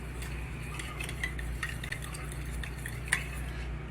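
A spoon stirs brown sugar into soy sauce for a honey garlic wing coating, giving quiet, steady scraping with scattered light clinks against the bowl over a few seconds, with no talking.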